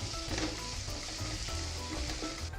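Food stirred in a pan over a high flame while making paneer butter masala with tomatoes, a steady close sizzle and frying hiss with scraping stirs running throughout, no talking.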